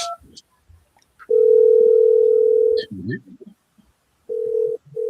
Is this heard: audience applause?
no